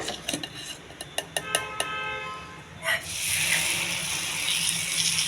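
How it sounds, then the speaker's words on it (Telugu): Millet moong dal batter spread thin on a hot, lightly oiled pan for pesarattu: a run of quick metal taps and scrapes of a ladle, then a loud, steady sizzle rising as the batter hits the surface. "ఒక గరిటె పిండి ఇలాగా పలచగా చేసుకోవాలండి"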